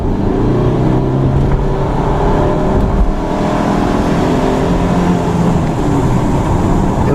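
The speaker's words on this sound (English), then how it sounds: "It's got a high buzzing noise that gets sort of annoying." A 2014 Subaru Outback 2.5i with a CVT automatic drives along, its engine giving off a continuous loud buzzing drone with shifting tonal whines under road noise, heard from inside the car without talk.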